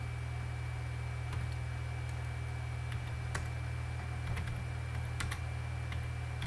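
Typing on a computer keyboard while setting up a Geant4 installation, with scattered sparse key clicks over a steady low electrical hum and no speech.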